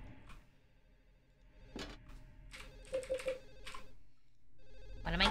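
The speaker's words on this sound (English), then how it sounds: "I don't want to listen to this phone anymore." A telephone rings in the Silent Hill 4 video game, a soft intermittent tone half-buried under thumps, clatter and other game noises.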